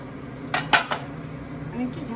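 A cooking pot of Kashmiri pulao with fried paneer and chopped coriander is shaken to mix it. A few quick metallic clanks and rattles come close together, then a quieter, softer rustle follows.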